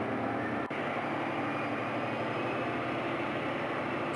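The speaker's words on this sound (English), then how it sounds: "that genuinely sounds like a jet engine throttling up" An Intercity 125 HST diesel train engine throttling up with a loud, steady jet-like roar, a dense whine sustained throughout with one brief click near the start.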